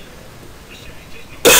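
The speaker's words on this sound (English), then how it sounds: "talking makes me cough" A single sharp cough bursts out at the very end after a stretch of near silence, loud and close.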